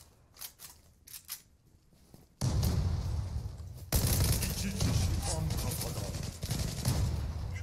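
Dense bursts of gunfire in a shooter video game, loud and sustained after a quieter start, with rapid overlapping shots and a voice talking underneath.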